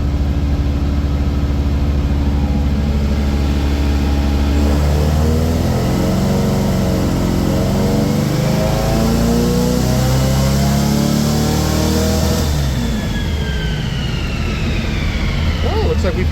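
A Volkswagen 1835cc fuel-injected engine on a chassis dyno revs up through the gears, loud and steady with rising and falling engine tones as each gear climbs, and a voice speaking over it.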